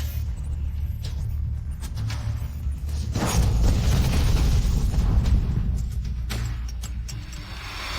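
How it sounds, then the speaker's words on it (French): A deep, rumbling explosion swells into a sustained roar with crackling bursts, heavy and loud, over a low cinematic drone, followed by a gradual fade. "le planète F612 a subi une explosion violente"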